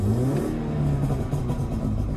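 A stage 2 tuned 2018 BMW 330i B48 engine revs steadily at about 5,000 RPM, a loud continuous drone with rumbling low end and no talking.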